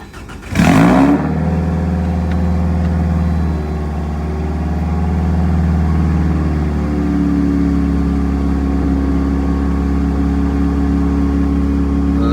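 A Scion xB engine cranks and catches with a loud burst, then settles into a steady, close idle that hums on for several seconds without any talk.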